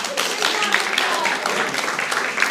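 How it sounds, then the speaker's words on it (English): A room full of people at a teacher-training session breaks into a brief, dense burst of applause, steady and fairly close throughout, with some voices mixed in. "Give her a round of applause"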